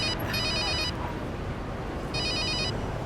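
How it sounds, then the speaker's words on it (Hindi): A telephone in a Hindi romantic film scene rings in two clear trilling bursts, separated by a short pause, over steady background noise. "फोन।"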